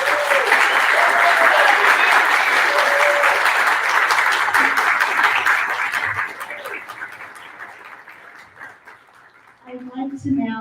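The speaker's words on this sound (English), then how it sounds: "Can you please give Sarah a huge round of applause?" Audience applause at a live on-location community event, loud sustained clapping close by that gradually thins and fades, ending with a brief voice.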